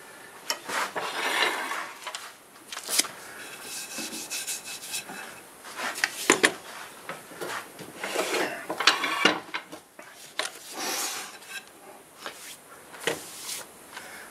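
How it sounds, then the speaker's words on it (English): A wood-turned piece spinning on a lathe is sanded, giving an irregular scratchy rubbing and hiss with uneven surges and occasional sharper scrapes, close and moderately quiet. "So I'll just show you a little bit of this sanding here."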